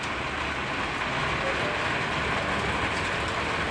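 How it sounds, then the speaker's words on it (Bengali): Rain falling on a tin roof of a village house, a dense, even wash of pattering noise that runs unbroken throughout, with no one talking. "এই যে টিনের চাল দিয়ে ফোটা ফোটা বৃষ্টি পড়ছে দেখুন"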